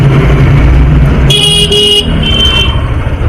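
Car horns honk in busy road traffic, two or three close, loud toots over a constant rumble of engines heard from a motorcycle.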